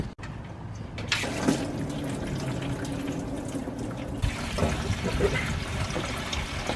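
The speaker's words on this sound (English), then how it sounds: "So let's get all the coolant out of this from being stored for the winter time" Coolant drains from a car's drain plug, a steady close splashing and trickling of liquid that runs continuously after a brief clunk at the start.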